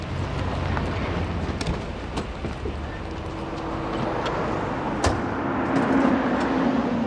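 A car drives along steadily, its engine and road noise forming a continuous low rumble throughout, with a faint thump partway through and no clear talk.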